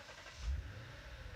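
A Lexus IS F performance car starting up, a brief low engine rumble that swells briefly and then settles into a steady idle, heard from close by.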